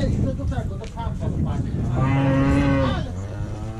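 Cows moo on a farm in Podlasie, Poland, in loud, close, drawn-out calls, one long moo rising clearly near the middle, with farm noise and some voices around.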